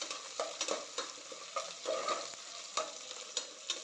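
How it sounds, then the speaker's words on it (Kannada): Garlic frying in oil in a pan, sizzling steadily while a utensil scrapes and stirs it in quick, uneven strokes close by, with no talk. "ಸೊ ಚೆನ್ನಾಗಿ ಫ್ರೈ ಮಾಡಿಟ್ಕೊಳ್ಳೋಣ."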